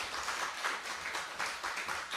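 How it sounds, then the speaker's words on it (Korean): Church congregation applauding the association president during a Sunday service, a steady moderate patter of many hands with soft swells, heard at a slight distance in a reverberant hall. "다시 한번 협회장님께 박수 부탁드리겠습니다"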